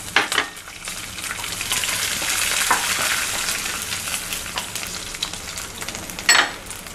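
Raw peanuts frying in a pan for aval (flattened rice) upma, a steady broadband sizzle with a few stirring scrapes and a sharper clatter near the end, no voices.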